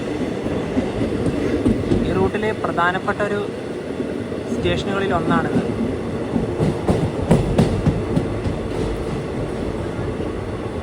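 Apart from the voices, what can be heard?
express train arriving at Arsikere Junction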